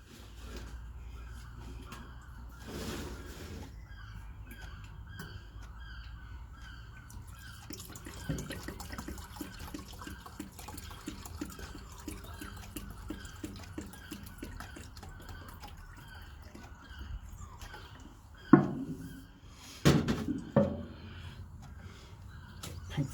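300 ml of paint and 300 ml of thinners are stirred together in a container for a Terratek 650 W spray gun, with a faint, steady liquid swirl and scraping that ends in a few louder knocks.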